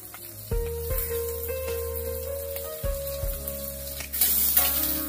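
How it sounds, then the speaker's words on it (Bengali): Chopped onion, garlic and green chili with black cumin fry in hot oil in a pan, a steady close sizzle with a few sharper crackling bursts as they are stirred. "পেঁয়াজ রসুন আর লঙ্কা একটু ভাজা ভাজা হলে"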